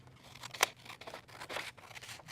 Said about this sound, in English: I'll grab a pair of scissors and cut out every screen